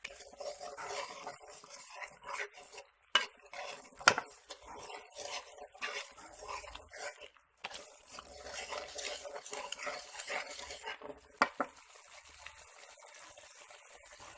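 Curry paste stir-fried in a pan for a spicy Thai catfish dish, a steady sizzle broken by repeated metal spatula scrapes and clinks against the pan, close and moderately loud with no talk.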